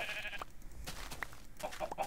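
Sheep in a Minecraft farm bleat in short, separate calls, several brief bleats spread across the moment, moderately close with quiet gaps between them.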